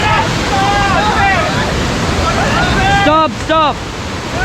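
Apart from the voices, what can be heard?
water rushing in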